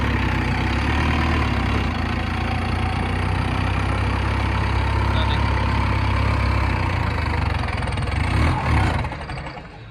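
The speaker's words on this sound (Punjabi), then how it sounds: "ਦੂਜਾ ਗੇਅਰ ਚ ਵੇਨੇ ਤੁਰਦਾ ਕਿ ਨਹੀਂ ਤੁਰਦਾ ਟਰੈਕਟਰ" An Arjun 605 turbo tractor engine runs in second gear, loud and steady at close range, a continuous low drone that fades slightly at the end.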